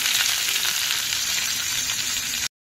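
Black cumin seeds, garlic and a little onion hit about half a spoon of hot oil, producing a loud, even hiss and crackle up close that cuts off abruptly after about two and a half seconds.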